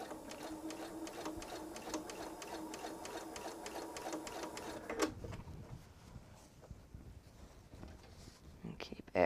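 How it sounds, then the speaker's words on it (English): A sewing machine stitches a quilted tote pocket in a rapid, even mechanical chatter for about five seconds, then stops, leaving quiet room noise and faint handling. "Make sure that you don't sew over the top part,"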